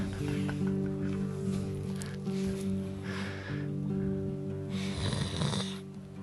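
A person imitates snoring with a few exaggerated rasping, rumbling breaths, close and fairly loud, with bursts of voice and noise between them.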